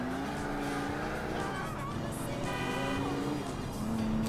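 A car horn sounds in Grand Theft Auto IV with sustained tones, first at the start, then a stacked, wavering honk midway and another at the end, over engine noise and game sound.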